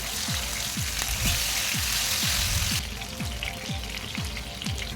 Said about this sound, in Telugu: 4 మినిట్స్ మీడియం ఫ్లేమ్లో పెట్టేసుకొని ఫ్రై చేసుకోవాలి రెండు వైపులా